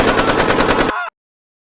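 Dense automatic gunfire, rapid continuous bursts of shots fired into the air from a car speeding through a court's main gate, loud and close, cutting off abruptly after about a second.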